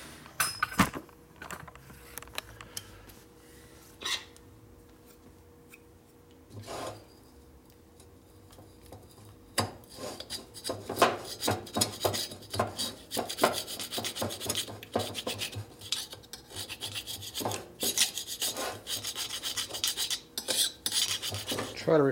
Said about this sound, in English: I'm going to scrape the other side of the cylinder here with my gasket scraper right here.